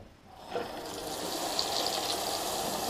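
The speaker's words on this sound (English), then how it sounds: "you can see the water really started flowing there" Water rushes from a kitchen faucet, starting softly and quickly building to a steady, full hiss that continues without pause.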